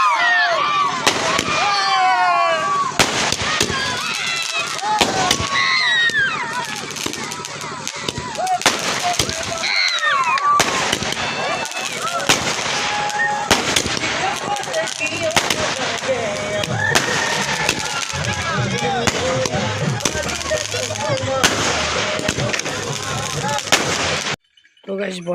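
Firecrackers burst at a wedding celebration: a dense, loud barrage of sharp cracks and booming bangs goes on almost without pause, then stops briefly near the end.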